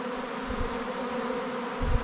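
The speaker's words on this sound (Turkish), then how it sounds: "Ama o kovan da güçlü hala maşallah. Bu kadar arının çıkmasına rağmen." Honeybees swarming around a strong hive in a highland village, a continuous close buzzing drone with a few louder passes near the microphone.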